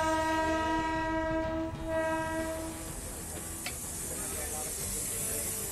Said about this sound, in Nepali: यही रेल परीक्षणका लागि शुक्रबार जयनगरबाट जनकपुर ल्याइएको हो।